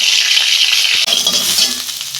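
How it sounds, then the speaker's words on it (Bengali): Cauliflower pieces sizzling in hot oil in a wok, a bright, close crackling hiss, with a stirring clatter partway through as the frying continues. "ওই তেলে ফুলকপিটা ভেজে নিচ্ছি।"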